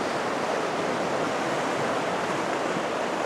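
Running creek, a raging stream rushing outdoors: a dense, steady wash of water noise, loud and close, unbroken throughout with no voices.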